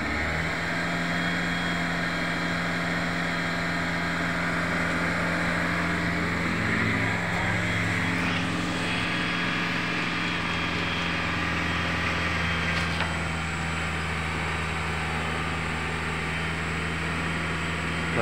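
Steady engine idle with rising revs as the throttle is blipped, the motor burning oil and puffing bluish smoke from the exhaust on a cold morning; continuous close rumble with no talk.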